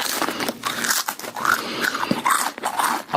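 Someone bites into a crispy papad lentil wafer, loud, close crunches repeating in uneven bursts with brief pauses between bites.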